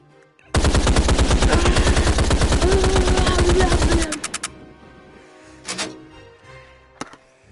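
Rapid automatic gunfire from a VR shooting video game: one loud, continuous burst of fast shots lasting about three and a half seconds, then a few trailing pops and faint handling noises in near-quiet.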